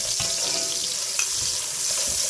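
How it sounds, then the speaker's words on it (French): Garlic sautés briskly in a pan for rabbit gibelotte, a dense, steady close-up frying crackle with a couple of faint utensil taps, no voices. "Et on va faire revenir ça pendant 2 minutes"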